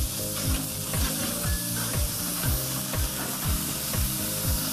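Burger patties with cheese on a grill at around 220–250 degrees, continuous sizzling overlaid with a repeating rhythmic scraping or ticking pattern, steady and moderately loud with no speech.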